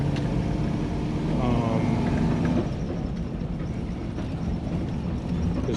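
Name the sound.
1996 Impala SS with LS 6.0 swap driving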